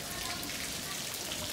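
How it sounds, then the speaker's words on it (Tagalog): Hail pelting a corrugated metal roof during a storm, a dense, even patter of many small impacts, fairly quiet and steady throughout. "Kasi umuulan pala ng yelo."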